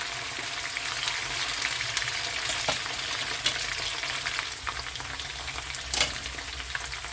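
Potatoes fry uncovered in a skillet for sauerkraut stew, giving a steady, close crackling sizzle with scattered sharper pops throughout and no voices.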